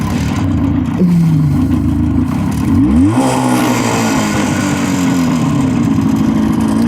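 A Jawa 350 motorcycle on the move gives a close, steady engine drone that climbs through a gear change around the middle and then carries on evenly, with no one speaking.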